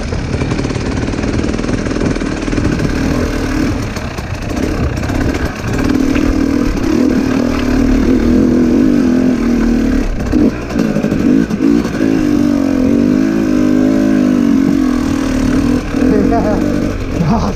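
A motorcycle engine thumps and revs unevenly while riding off-road over rough terrain, loud and close throughout with the throttle rising and falling, and a voice talks over it.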